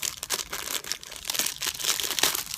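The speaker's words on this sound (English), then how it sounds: "I just take one out of the package. Sorry about the crinkling." Crinkling of a plastic package as small knitting snips are taken out, close and loud, a busy run of rustles and crackles with no talking.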